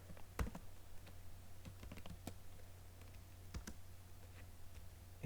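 Keys tap in short, scattered bursts on a computer keyboard while a file name is entered during a MATLAB-style system analysis lab; the clicks are close and fairly quiet over a steady low hum, with no talking.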